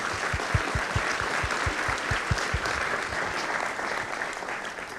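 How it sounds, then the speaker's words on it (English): A conference audience gives a quick round of applause for Code Club, a full, steady burst of many hands clapping with a few low thumps near the start. "Can I get a quick round of applause for Code Club?"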